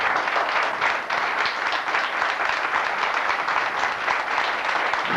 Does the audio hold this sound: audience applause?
yes